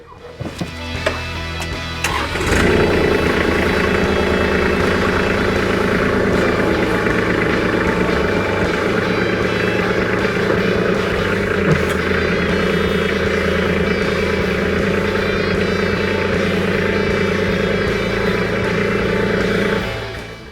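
A Kubota tractor with a front loader cranks briefly, then its diesel engine catches and settles into a loud, steady, vibrating run as it moves forward, with no talk.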